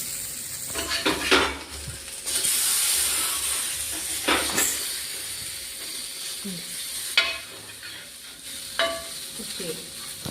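Elephant yam slices sizzling in a hot pan, with intermittent scraping and clanking as a utensil flips them, close and moderately quiet, several sharp metallic knocks spread over the sizzle.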